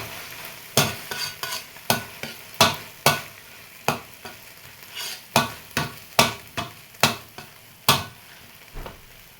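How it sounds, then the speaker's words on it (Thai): A spatula scrapes and tosses a coconut-milk curry mixture with canned tuna in a pan, making about twenty sharp, rhythmic scraping strokes over a faint sizzle, with no talking. "หน้าลงไปแล้วลองนำไปผัด ให้เข้ากัน"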